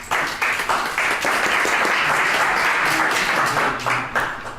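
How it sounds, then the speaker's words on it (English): An audience applauds a speaker at a talk about America's wars overseas: dense, sustained clapping from a roomful of people fills the whole stretch at steady loudness, with a few sharper claps at the start and end. "Ladies and gentlemen, a big round of applause for John Peters."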